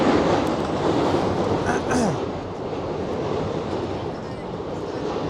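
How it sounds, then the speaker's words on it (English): A loud, close train roars past with a dense rushing rumble, steady and heavy throughout, with wind buffeting the microphone. "This train is loud as fuck."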